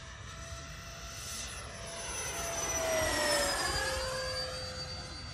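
A Freewing A-10 Thunderbolt II radio-controlled jet with twin 80mm ducted fans whines overhead, its high-pitched turbine tone swelling as it passes close and then dropping in pitch as it moves away, with no talking.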